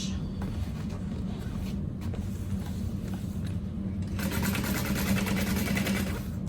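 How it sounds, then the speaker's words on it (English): A sewing machine top stitches through the layers of a fabric bag at a long stitch length, a steady mechanical whir running continuously and growing a little louder and busier toward the end. "I'm using a stitch length of 5 to top stitch."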